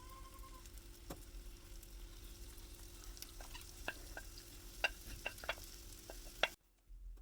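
An omelette egg mixture fries in a buttered pan, a soft steady sizzle with light scattered ticks and pops, close and fairly quiet, ending in a moment of silence.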